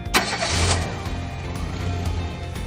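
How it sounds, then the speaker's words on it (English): A car engine cranks and catches after a jump start from jumper cables on a flat battery, a steady dense mechanical rumble with a brief sharp burst near the start, running continuously at close range with no talk. "crank the engine to start"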